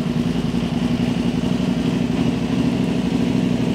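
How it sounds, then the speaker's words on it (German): A KTM 990 Super Duke R with its LC8 V-twin runs at a steady, loud, close idle with an even, throbbing pulse and no voices. "wir können jetzt einmal die Maschine starten"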